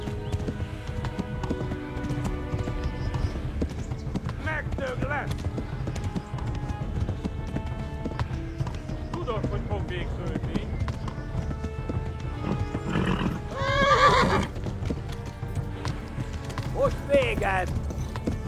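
Horse in a video game chase, galloping at full speed: continuous clip-clop hoofbeats throughout with a couple of short neighs or whinnies rising above, over a busy game background with some talk.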